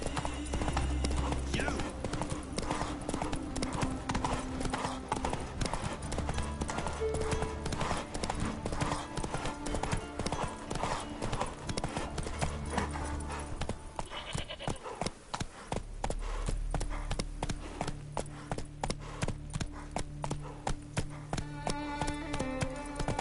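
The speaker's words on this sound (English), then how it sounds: "Whoa there, Roach" Hooves of Roach, a horse in The Witcher video game, clip-clopping in a steady, quick rhythm of sharp close knocks, continuing throughout over a low background score.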